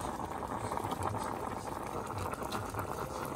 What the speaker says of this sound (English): I'm just gonna sieve it through here.